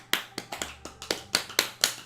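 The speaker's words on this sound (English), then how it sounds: "You get a clap" A single person claps by hand in a slow, uneven run of about eight sharp, close claps spread over two seconds, with a faint low hum underneath and no talking.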